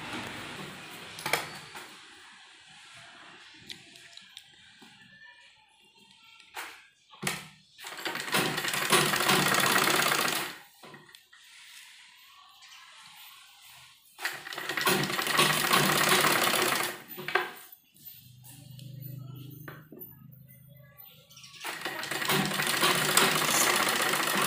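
A sewing machine stitches a doubled 1.5-inch binding strip onto the neckline of a baby kurti, running in several loud whirring bursts of a few seconds each, separated by quiet pauses and small handling clicks.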